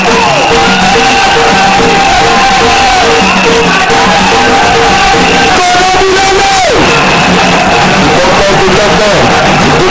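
A women's audience at a PPRD women's league political gathering cheers and shouts loudly, a dense sustained crowd roar with whoops and raised voices filling the whole stretch.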